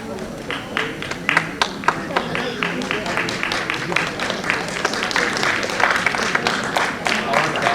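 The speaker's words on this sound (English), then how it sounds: "Keep the applause coming in" An audience applauds steadily at an award presentation during an Asian Heritage Month celebration, many hands clapping in a dense rhythm, with a voice speaking over the applause.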